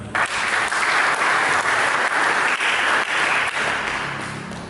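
Loud congregation applause in a church during a sermon, a dense continuous roar of clapping that holds steady and then fades slightly at the end.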